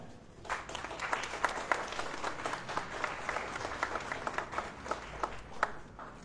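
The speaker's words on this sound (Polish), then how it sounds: "Także brawa." Outdoor ceremony audience at an old historic fort applauding steadily, a dense wash of many hands clapping with a few louder claps standing out, sustained for several seconds with no speech over it.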